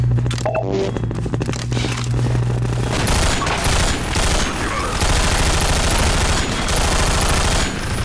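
Loud, dense gunfire and booming blasts from Half-Life 2 VR fill the clip almost without a break, with a rapid crackling fusillade running over heavy low thuds.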